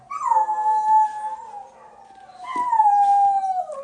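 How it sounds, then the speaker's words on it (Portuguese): A dog howls in two long, drawn-out, wavering wails with a short pause between them, loud and close, with no other sound. "agora cantoria do cachorro"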